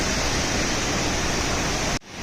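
Steady broadband rush of the Sajla waterfall, close and loud, pouring continuously for about two seconds before cutting off abruptly.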